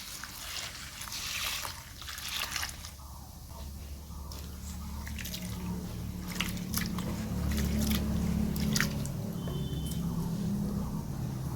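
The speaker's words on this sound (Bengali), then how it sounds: "এবার চিড়েটাকে আমি ভালো করে ধুয়ে নেব" Flattened rice (chira) being washed in a bowl of water, giving a steady watery sloshing and squishing with scattered drips and trickles, moderately close and continuous throughout.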